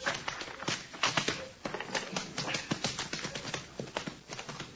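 Horse hooves clip-clop in a steady, fairly close rhythm on a Western frontier street, a pony with pinched feet after poor blacksmith shoeing, the sharp hoof strikes repeating evenly throughout with no talk over them.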